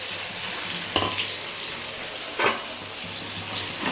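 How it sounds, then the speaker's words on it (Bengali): Onions fry in hot oil with a constant crackling sizzle, and two brief louder scrapes come from stirring in the pan. "এই যে তেলটা গরম হয়ে গেছে, এই যে দিয়ে দিলাম পেঁয়াজ।"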